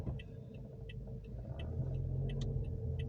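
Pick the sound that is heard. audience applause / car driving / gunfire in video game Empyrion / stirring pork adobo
car driving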